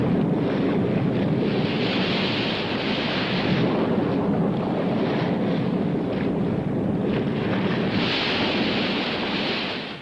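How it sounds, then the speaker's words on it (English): Gale-force wind roars with crashing waves in Bass Strait during the 1968 Sydney Hobart yacht race, a loud, continuous buffeting rush with surging swells, sustained throughout and free of voices. "The gale has hit, and from now on it's hard going."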